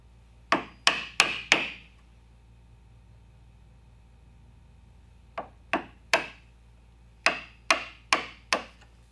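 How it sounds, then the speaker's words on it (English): Mallet strikes on a 1/4-inch chisel chopping waste from handcut wooden dovetails, sharp woody knocks in quick bursts of three to four blows separated by pauses, close and clear. "I can just chisel back to that knife mark with my, I've got a 1/4-inch chisel"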